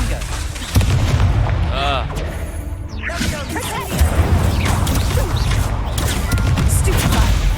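A spell is cast during a busy Hogwarts Legacy fight, with loud booms, whooshes and crashing impacts layered densely over one another, and a player's voice shouting over the chaos.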